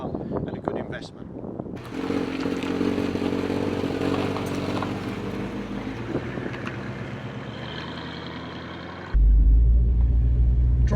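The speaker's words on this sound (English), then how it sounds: "Driving one of these Mustang Convertibles isn't all about the power sometimes, it's just having that V8 burble" A 1967 Ford Mustang 289 V8 convertible in Springtime Yellow burbles steadily on the move, a low rumble blended with wind noise, ending with a louder, deeper drone close by.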